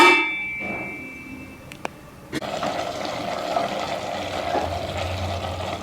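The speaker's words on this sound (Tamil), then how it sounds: "சும்மா தட்டம் போட்டு மூடிடும்." A metal plate is set as a lid over a cooking pot of boiling water and rice for mushroom biryani, giving a couple of sharp metallic clangs followed by steady bubbling and hissing.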